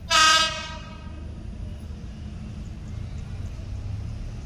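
A single loud, short train horn blast opens, followed by the low rumble of a passing train at Ban Song station, Thailand.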